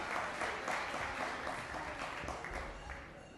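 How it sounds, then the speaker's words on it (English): An audience at a Hall of Fame induction applauds steadily for a few seconds as a speaker walks to the stage, a dense, even wash of clapping that fades slightly toward the end. "let's give her a round of applause as she comes to the stage"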